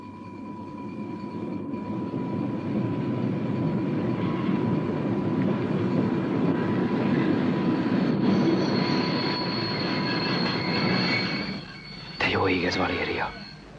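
A local branch-line train bound for Pisa rolls past steadily and loudly for over ten seconds with a broad rumble and high wheel squeal, then briefly drops off near the end as voices break in.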